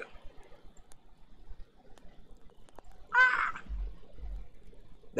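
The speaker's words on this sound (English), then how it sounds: "That seagull was taunting me." Seagull calling on a big ferry barge between Cedar Point and Ocracoke, one harsh nearby squawk standing out against quiet background rumble.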